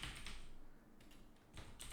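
Quiet clicking keystrokes on a computer keyboard while working in Excel, tapping in a quick irregular rhythm with brief pauses between bursts, close and faint with no talking.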